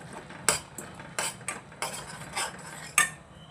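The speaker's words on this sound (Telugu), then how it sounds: "ఇప్పుడు బాగా కలుపుకోవాలి." A spoon stirs turmeric and ginger paste frying in oil, with a series of sharp metallic scrapes and clinks against the pan in an uneven rhythm, close and clear.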